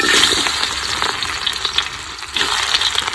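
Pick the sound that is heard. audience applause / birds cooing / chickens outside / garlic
garlic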